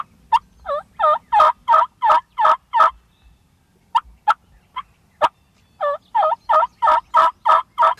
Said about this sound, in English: We've got turkeys gobbling.